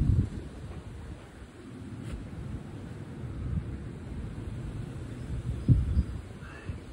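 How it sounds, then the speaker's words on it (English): Strong summer wind blows steadily in a broad, rumbling roar with gusty swells and buffeting against the microphone, pushing loose objects around; no one talks. "we don't really get this kind of wind on a normal day during the summer"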